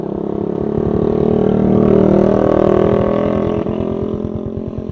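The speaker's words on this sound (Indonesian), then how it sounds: "Ini suara knalpotnya, coba kita lihat, nyalain ya suaranya kayak gimana." A Yamaha NMAX 155 scooter fitted with a TZM racing exhaust and DP killer idles loudly up close, its throaty, pulsing exhaust note swelling slightly in the middle and then settling back to a steady rhythmic putter.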